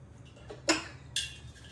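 A metal lid is set onto a cooking pot with two short clinks, one sharper than the other, about half a second apart against a quiet kitchen background.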